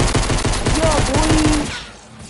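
Rapid automatic gunfire in the Fortnite video game is loud and close, a fast, even stream of shots rattling for about two seconds before cutting off.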